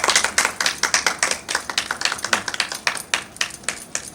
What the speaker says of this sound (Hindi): अरे ताली बजाओ भाई ताली बजाओ।